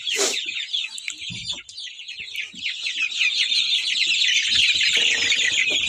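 Chickens and young chicks in a coop keep up a continuous chorus of high peeping and clucking, close and fairly loud, with a few soft thumps and rustles underneath.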